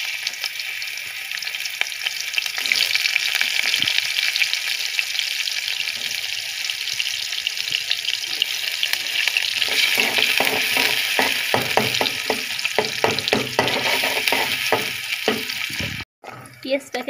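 Chopped onion frying in hot oil in a pan, a steady, dense sizzle that runs close and loud for the whole stretch, with faint crackles and scrapes, then a brief cut near the end.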